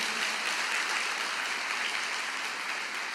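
Steady, dense applause from a church congregation during a sermon, continuous and evenly loud throughout with no pauses.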